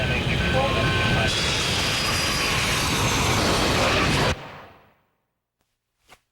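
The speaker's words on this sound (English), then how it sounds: "When this 250-ton aircraft touches down at 155 miles per hour" A 250-ton airliner touching down at about 155 miles per hour gives a loud, sustained engine and wind roar for several seconds that cuts off abruptly and fades to near silence, followed by a brief faint knock.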